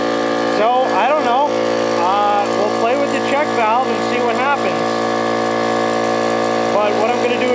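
An old air compressor runs with a loud, steady motor drone and strong mechanical harmonics throughout, while a person talks over it for much of the time.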